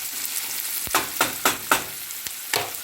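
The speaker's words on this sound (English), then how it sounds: "These aren't grilled onions, they're going to be sauteed slash caramelized" Onions sautéing and caramelizing in a pan make a steady soft sizzle, broken by several sharp stirring scrapes spaced about a quarter second apart, close and fairly quiet, with no one talking.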